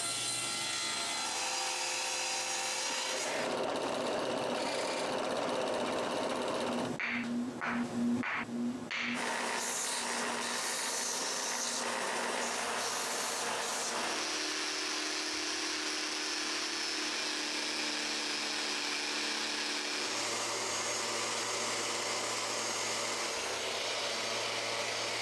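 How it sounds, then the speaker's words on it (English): A CNC router cutting wooden pieces for a cryptex, with a steady broadband whine running throughout, a brief change in tone midway, then steady cutting again. The machine is close and loud, and nobody speaks. "While the CNC is cutting more pieces, I can work on those that are already cut."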